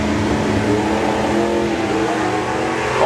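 Drag racing cars launching off the line at a drag strip event, a loud continuous engine roar that holds steady for a few seconds without talk.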